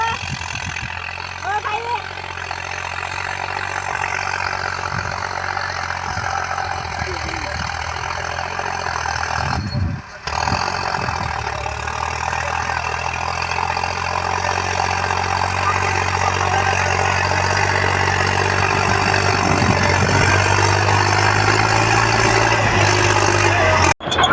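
A tractor engine idles steadily in a farm field, with a constant low droning hum and faint rumble, loud and close, with a brief dip partway through; the tractor is used for harvesting turmeric.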